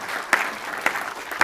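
A graduation-ceremony audience claps steadily for the awardees at the 2014 SBMI commencement, a close, even patter of many hands with a few sharper individual claps standing out.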